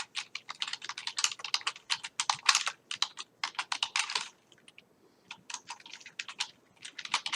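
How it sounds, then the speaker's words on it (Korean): Rapid mouse and keyboard clicking at a computer during video editing in PowerDirector, with dense bursts of crisp clicks and one short pause near the middle. "저는 더블 클릭 해보도록 하겠습니다. 이 클립을요. 더블 클릭."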